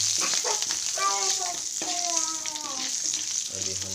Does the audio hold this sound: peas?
yes